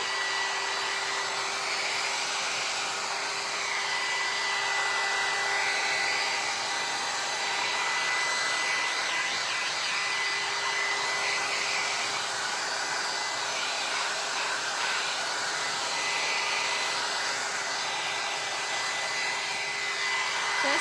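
A hair dryer blows steadily and loudly, without pause, over painted metal with a patina finish, a constant whooshing drone with a faint motor whine.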